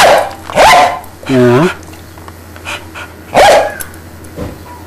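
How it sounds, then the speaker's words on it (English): A pet dog barking close by: several sharp, loud barks plus a longer yelping, whining bark in between, interleaved with a person talking to the dog. "Yeah, she can bark."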